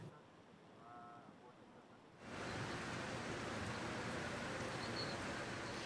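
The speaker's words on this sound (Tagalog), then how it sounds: "medyo lumalakas na ulit yung ulan" Rain on a flooded EDSA road near Pasay Rotonda during a storm, starting quieter and then swelling abruptly into a dense, steady hiss of falling rain that continues to the end.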